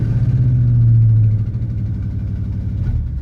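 BMW M5 engine running roughly with one bank cut out, a loud close idle with a heavy low hum that eases after a second into an uneven, pulsing drone.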